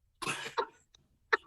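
A person with asthma coughs after smoking: one harsh cough burst, a shorter second cough, then a faint catch and a final sharp cough, all close and fairly quiet with no talking.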